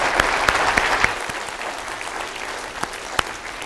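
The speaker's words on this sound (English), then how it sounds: "A round of applause, ladies and gentlemen, for our guest speakers" Audience at a business leadership session applauds guest speakers, a moderate patter of clapping with scattered sharp claps that gradually thins toward the end.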